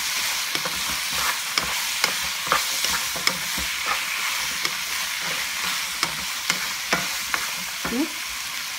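Chicken pieces frying in a pan for Shanghai chicken, a steady loud sizzle with regular spatula scrapes and stirring taps throughout, no talk.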